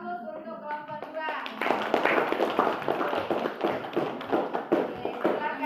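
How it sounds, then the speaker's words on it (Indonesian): A classroom of students bursts into applause for a presenting group, a teacher's voice leading in before many hands clap in a loud, close, irregular patter that continues to the end. "mari kita beri aplaus untuk kelompok 2"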